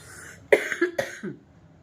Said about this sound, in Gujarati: ઉધરસ એટલી આવે છે કે આમ અંદરથી જ એકદમ ઉધરસ આવે છે ને કફ થઈ ગયો છે